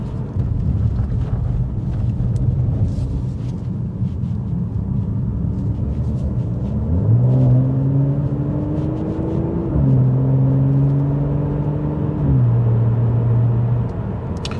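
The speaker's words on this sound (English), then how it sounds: "I do like just building those RPMs up slowly and really just hearing the exhaust do its thing." A car cruising at 30 mph in seventh gear with its exhaust valves open, a steady low drone under wind noise, rising in pitch across two gentle pulls before settling back.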